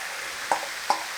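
Pork and ginger stir-fry filling sizzling in a pan as sauce goes in, a steady frying hiss with two quick scraping stir clicks, fairly quiet and close.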